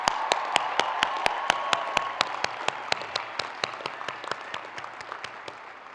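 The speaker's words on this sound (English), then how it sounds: "Please join me in a round of applause to honor and congratulate today's honorees" A crowd applauds at the University of Wisconsin-Madison 2016 spring commencement ceremony in a stadium, steady sharp clapping that slowly fades over several seconds.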